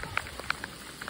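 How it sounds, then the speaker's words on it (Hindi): Rain falls at night in scattered, distinct drops striking a surface, fairly quiet and close, with no talking. "तो गाइस आज का व्लॉग बारिश से करेंगे शुरुआत"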